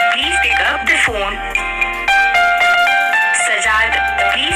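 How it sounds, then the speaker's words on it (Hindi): A custom name ringtone plays on a phone, a loud continuous melodic tune with layered tones and a steady beat, repeating in short phrases across the whole stretch. "अगर हमने ये वाली रिंग ट्यून डाउनलोड करनी है"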